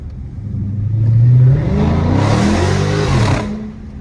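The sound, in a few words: SRT car engine revving and accelerating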